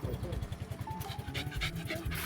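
A black dog pants rapidly and steadily up close during an outdoor walk, the quick breathy rhythm continuing throughout with people talking nearby.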